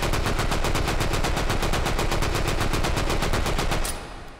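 A Sten submachine gun firing in the VR shooter H3VR, one long sustained burst of rapid, evenly spaced loud shots that stops abruptly near the end, leaving a fading echo.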